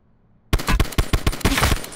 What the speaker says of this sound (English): He getting shot at by your sniper.